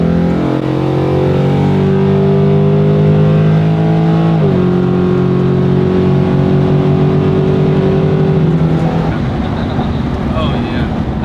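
A Chevrolet Silverado race truck accelerating hard in a 40 roll race, its engine droning loud and close with rising pitch through two gear changes, then a rush of wind and road noise.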